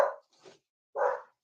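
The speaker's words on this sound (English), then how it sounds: "Yeah, and she's barking." A pet dog barks indoors while looking out through a glass panel: two short, moderately loud barks separated by a pause, with a faint softer yip between them.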